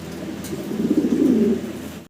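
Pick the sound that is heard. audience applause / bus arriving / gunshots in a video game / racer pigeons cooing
racer pigeons cooing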